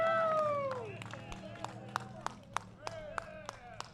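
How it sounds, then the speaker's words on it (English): Crowd applause with scattered sharp claps at a racing-series podium ceremony for the race winners, starting as a broad burst and thinning into separate loud claps over a steady background. "Let's have a big round of applause for all our winners on the podium"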